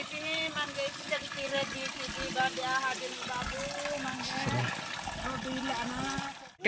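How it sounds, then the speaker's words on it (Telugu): Water runs and splashes from a village tap in the background while several people talk nearby outdoors in a remote tribal village. "ఇక్కడైతే చూడండి కొలాయి వాటర్ అమ్మ వాళ్ళైతే ఈ విధంగా నీళ్ళు పెరుక్కుంటున్నారు"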